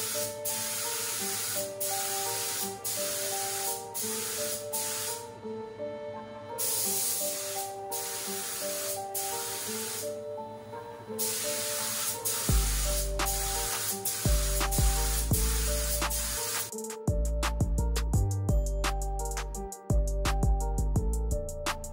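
A Harbor Freight paint spray gun spraying, a steady close hiss of atomized paint in long bursts with brief pauses, alongside tonal hum from the compressed air line.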